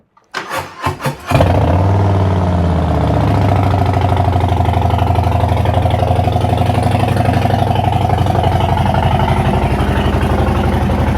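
A Stage 1 tuned vehicle engine cranks a few times, fires up loud and close, then settles into a steady, throbbing warm-up idle that holds unchanged.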